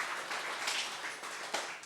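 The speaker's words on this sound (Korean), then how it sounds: "크게 박수해 주시고요." A church congregation applauds, a soft steady patter of many hands clapping together for about two seconds, faint and somewhat distant.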